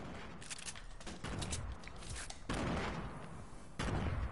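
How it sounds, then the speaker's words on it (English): Bursts of rapid gunfire and booming explosions from the video game Fortnite, including a heavy assault rifle, crowd together in a dense, chaotic battle mix, with loud impacts at intervals and no talking. "There are some explosions going on"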